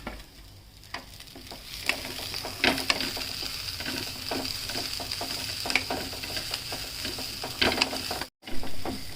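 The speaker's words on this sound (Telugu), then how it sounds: "తర్వాత ఇంకా జీలకర్ర ధనియాలు వెల్లుల్లిపాయలు ఎండుమిరపకాయలు ఇవి వేపుకొని తీసుకోవాలి" Cumin seeds, coriander seeds, garlic and dried red chillies roasting in a pan, heard as a steady close sizzle broken by repeated scraping stirs and small pops.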